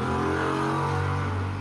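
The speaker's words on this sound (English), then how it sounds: "The fucking motorcycle is so goddamn loud." Loud motorcycle engine outside in Divinity Original Sin 2, a steady, heavy droning roar held close and constant for a moment with no voices.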